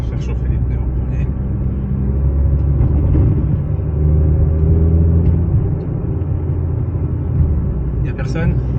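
Alpine A110S sports car driving to warm its tyres, a loud close engine rumble that swells and eases over a few seconds, with people talking over it.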